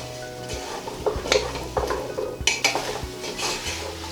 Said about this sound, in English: to add the butternut squash just before you add any of the fluids, so that they get a little bit of a coating